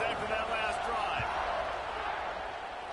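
A stadium crowd in the College Football 26 video game roars in a steady, dense wash of cheering during a kickoff, with a commentator's voice running over it.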